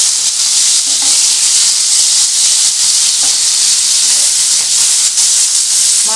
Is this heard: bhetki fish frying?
yes